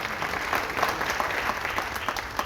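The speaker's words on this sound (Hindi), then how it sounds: "जरा जोरदार तालियां मणिका के सम्मान में" Sustained applause from the audience at an all-India poetry gathering in Mumbai, a dense steady wash of many hands clapping with no voices over it.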